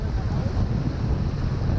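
Strong wind buffets the microphone beside a lake, a continuous loud rushing roar that stays steady throughout with no distinct voices.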